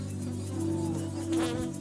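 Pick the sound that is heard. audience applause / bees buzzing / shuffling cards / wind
bees buzzing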